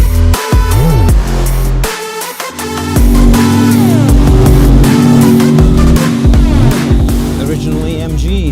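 Mercedes-AMG cars accelerate hard close by, a loud, continuous engine roar with rising and falling revs and gear changes, while people talk over it.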